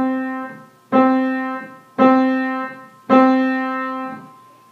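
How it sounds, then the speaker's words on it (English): Four evenly spaced piano notes sound alone, each a clear struck tone ringing with rich overtones and fading before the next attack in a steady quarter-note pulse. "If I play this rhythm on a piano,"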